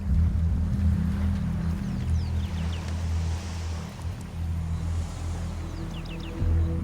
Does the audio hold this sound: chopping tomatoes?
no